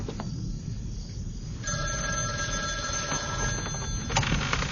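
A telephone rings with a steady electronic trill over a dense, noisy background, continuing in repeated bursts; no talking.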